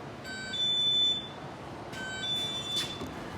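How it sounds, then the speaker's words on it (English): A doorbell buzzer in a home garage workshop gives a couple of high electronic tones over steady background noise, moderately faint and without talking. "that's my doorbell."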